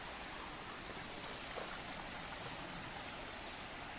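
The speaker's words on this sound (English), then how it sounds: "here's the second crossing of the Moormans River, North Fork of the Moormans River" Steady broadband rush of the North Fork of the Moormans River flowing over a shallow stream crossing in Shenandoah National Park, continuous and even, with no voices.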